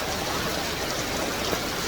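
Steady rain falls outdoors in the Philippines, a soft, even hiss of drops that continues unbroken and fairly faint, with no voices over it.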